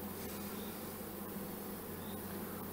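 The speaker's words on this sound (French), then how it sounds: "Il y a beaucoup d'abeilles là-dedans." Honeybees swarm thickly over an opened hive frame during queen rearing, making a steady, dense buzzing drone that holds evenly throughout with no voices.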